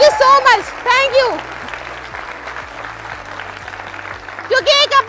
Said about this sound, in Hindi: जोरदार तालियां मेरे गुरुओं के लिए